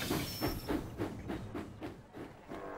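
A cartoon steam locomotive rumbles along the rails with a steady, rhythmic clickety-clack, a light hiss running over the chugging beat.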